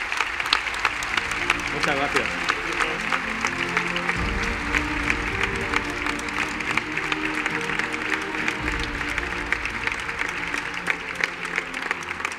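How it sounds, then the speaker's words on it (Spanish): An audience at an institutional Three Kings Day ceremony in Ibi applauds steadily throughout, a dense sustained clapping with a brief spoken thanks near the start. "O sea, que un doble aplauso."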